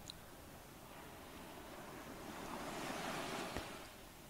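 Ocean waves surge and wash steadily as a continuous broadband roar, swelling louder toward the end with some wind across the microphone, heard alone without any voices.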